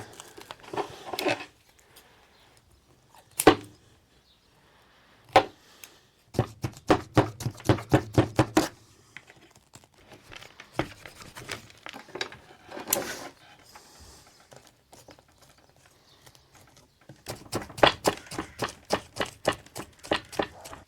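Bonsai roots are cut back while fitting a tree flusher into its pot, giving crisp snips and bursts of rapid clipping and crunching that start and stop in clusters, close up and fairly quiet, with pauses between.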